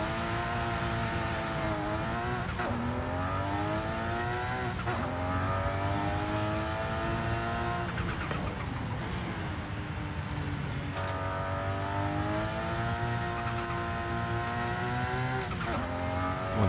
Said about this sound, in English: It is quite easy to accelerate to high speed on the downhill.